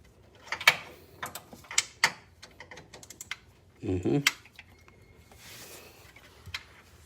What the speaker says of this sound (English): So you just put the wrench socket over it.